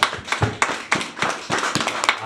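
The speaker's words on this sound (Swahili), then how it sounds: "Makofi kwa Bwana Yesu tafadhali." A church congregation claps for the Lord in an uneven, rhythmic burst of many hands, loud and close, with a faint murmur of voices underneath.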